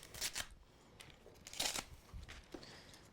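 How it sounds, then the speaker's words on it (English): Collard green leaves are torn from their stems by hand, giving several quick, crisp rips and rustles up close in a quiet kitchen, each lasting a fraction of a second, with soft handling noise between them. "take the stem and just rip the stem off"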